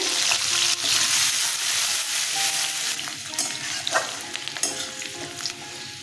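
Green chillies and onion sizzle in hot tempering oil for fish and ash gourd curry with prawns and potato, a steady close frying hiss with occasional spatters and utensil clicks, no talking.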